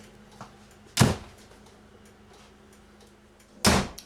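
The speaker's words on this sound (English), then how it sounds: "I'm gonna have to close the door back here so we don't get fumed out" A vehicle cab's rear door shuts twice with solid thumps, one about a second in and another near the end, against a quiet interior hum.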